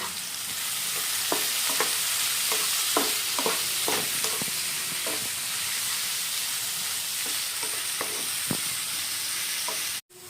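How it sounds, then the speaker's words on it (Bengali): Onions crackle in a hot pan, the even sizzle broken by repeated scraping strokes of a spatula, close and continuous, then cut off abruptly near the end. "তো আমাদের পেঁয়াজ কিন্তু খুব ভালো মতো ভাজা হয়ে গেছে"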